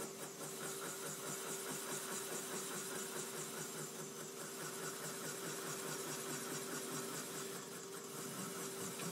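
Machine boring beryllium valve seats in a Porsche 996 cylinder head: a steady, continuous mechanical hum and whir with a fixed tone, running evenly throughout at moderate level.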